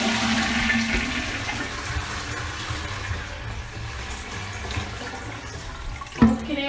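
A toilet flushing in an empty apartment near the beach in Porto, Portugal: a loud, steady rush of water that carries for several seconds, closing with a sharp knock or clunk near the end, with no talk.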